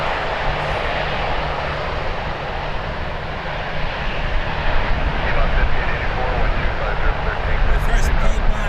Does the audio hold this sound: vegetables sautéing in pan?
no